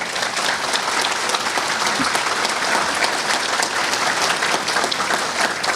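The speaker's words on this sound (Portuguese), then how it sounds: "eu quero uma salva de palmas a ele" Sustained applause from an audience at the opening of a national congress of condominium lawyers, dense clapping filling the whole stretch at an even level with faint crowd murmur.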